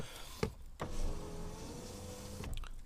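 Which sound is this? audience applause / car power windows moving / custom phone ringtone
car power windows moving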